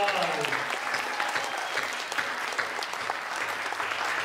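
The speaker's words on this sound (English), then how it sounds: "a huge round of applause" Applause from an audience at a middle school geography bee honours the defending champion, with steady, moderately loud clapping and a brief trailing voice at the start.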